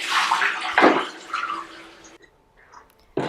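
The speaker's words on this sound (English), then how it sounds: "So I'm cleaning the water tank out, making sure all the descale is out of there." Water splashes and sloshes close up as a Bosch steam oven's water tank is rinsed of descaler, about two seconds, then a quieter pause before a brief final splash.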